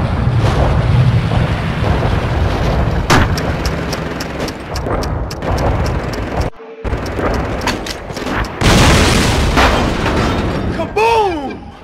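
Explosions and gunfire in the Call of Duty Roads to Victory war video game, with several sharp booms and pops over a dense, continuous battle din, loud throughout, under voices talking.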